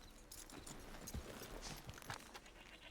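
Horse hooves clip-clop at a walking pace in the video game Red Dead Redemption 2, a quiet irregular run of soft hoof knocks over a low background.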